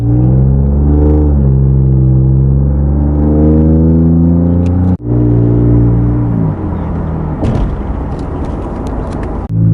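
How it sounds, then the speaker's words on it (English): A 2017 Ford Fusion Sport with a turbo engine and straight-pipe exhaust drones loudly while driving, its pitch climbing in steady pulls. There is a sharp break near the middle, then it rises again with rougher bursts toward the end. "I want to hear the turbo noises and the interior noises, see how it feels."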